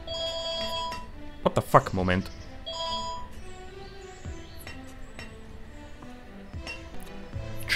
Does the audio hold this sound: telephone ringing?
yes